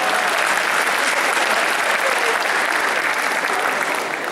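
Loud, continuous applause from a large audience at an anime Christmas event, a dense unbroken wash of clapping that holds steady throughout and eases slightly at the very end.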